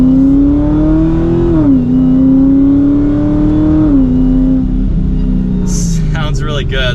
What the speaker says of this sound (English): That Supercharger whine is fantastic.